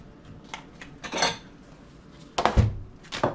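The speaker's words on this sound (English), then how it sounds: "I always like to crack them in a separate thing just to make sure" Eggs cracked into a separate bowl before scrambling: a couple of sharp knocks and clattering taps against the dish, close and fairly loud, with quiet gaps between and no talking.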